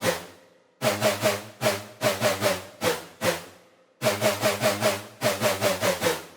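A bright synth lead plays a pulsing run of repeated notes in short bursts with brief gaps, the pitch gliding between notes, alone and fairly loud.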